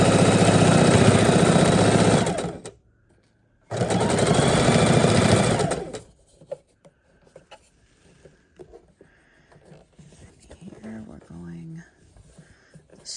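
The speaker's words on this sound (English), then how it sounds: "we just keep on sewing our blocks together, making our seams sure we're lining up" A sewing machine stitching quilt blocks together into rows runs in two loud, steady bursts separated by a short pause, and then goes quiet while soft voices and small handling sounds follow.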